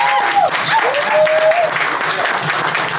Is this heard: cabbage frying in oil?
no